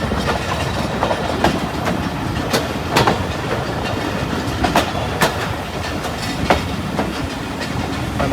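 The rerouted Mianwali Express passenger train runs on the Lalamusa to Mari Indus line, with steady, loud clickety-clack wheel rhythm and sharp rail-joint clicks recurring throughout over a continuous rumbling roll.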